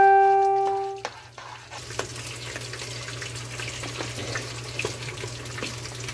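Cornmeal is stirred in a pot after a fading tone at the start, giving a continuous soft swishing and scraping with light clicks against the pot, steady and close.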